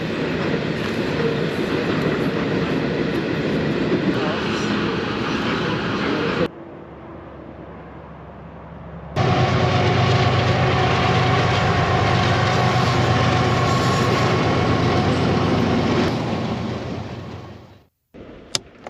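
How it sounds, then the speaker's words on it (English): Trains rolling past near Banff, a loud continuous rumble with rail clatter that cuts off for a few seconds, then resumes just as loud before fading away at the end. "listen to the trains roll by"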